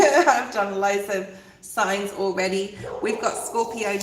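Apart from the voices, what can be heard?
No everyday noise stands out behind the speech.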